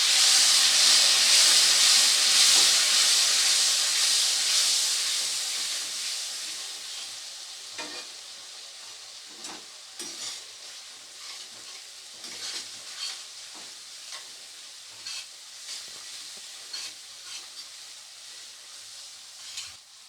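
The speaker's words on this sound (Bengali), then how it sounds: "সামান্য একটু জল দিয়ে মশলাটাকে খুব ভালো করে কষাবো।" Spice paste for a katla fish curry with black cumin hisses loudly as a little water hits the hot pan, then settles into a quieter sizzle broken by stirring scrapes and pops.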